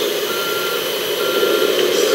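Reversing beeps from an RC Kabolite K3362 4x4 dumper truck model: a steady electronic tone repeating over a constant motor hum.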